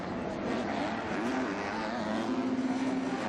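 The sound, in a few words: motocross bike engine panic rev during MX2 race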